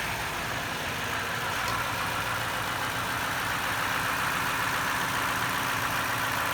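A 2008 Toyota Sequoia SR5 4x4 with a 5.7L V8 idles steadily nearby, a smooth continuous engine hum with no talk over it.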